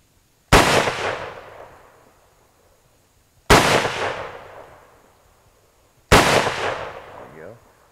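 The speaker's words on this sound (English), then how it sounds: "You just bump fired it." A French MAS 49/56 rifle fires three loud, sharp shots outdoors, each followed by a long decaying echo, with roughly three seconds between the first two and a shorter gap before the third.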